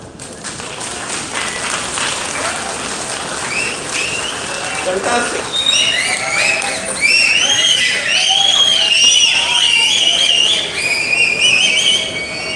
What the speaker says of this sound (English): Can I have a big whistle and a vocoder moment? Big round of applause.